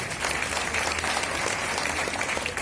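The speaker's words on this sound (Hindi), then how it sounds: "एक बार मैं अपने गुरु के लिए शानदार ताली चाहूंगा" An audience applauds, with dense, continuous clapping from a crowd held at a steady moderate level throughout, heard on its own without speech.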